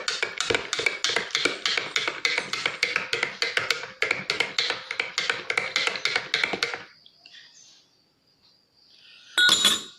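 A spoon stirs protein powder into milk in a glass, clinking quickly and steadily against the sides for several seconds before stopping, followed by a short quiet stretch and one final clink.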